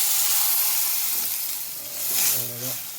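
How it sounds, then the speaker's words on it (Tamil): Water poured into a hot pan of sambar with chilli and turmeric powder sizzles and hisses steadily, swelling louder near the end with bubbling, with a faint voice in the background. "அப்படியே தண்ணி ஊற்றுங்க."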